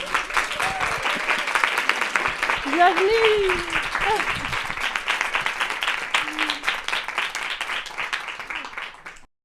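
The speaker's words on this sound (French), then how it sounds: "un tonnerre d'applaudissements pour Louise" An audience at a talk event breaks into loud, sustained applause to welcome Louise, clapping steadily throughout while a few voices call out over it.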